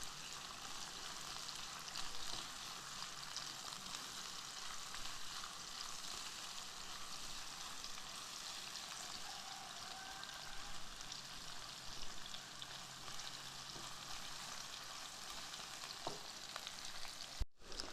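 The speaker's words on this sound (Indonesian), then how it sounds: "masukkan cabai dan teman-temannya, ditumis sampai layu" Chili and other ingredients stir-fry in a hot pan for crisp tahu isi, a steady close sizzle running throughout with no talk.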